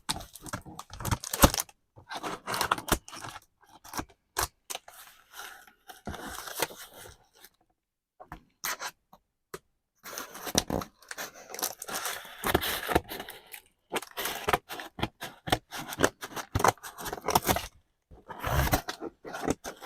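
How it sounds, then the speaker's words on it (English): Scissors snipping and scraping through a recycled cardboard box, irregular bursts of crunching, cutting and tearing scattered across a long quiet stretch, fairly close, with short silent pauses between cuts and no talk. "trusty scissors"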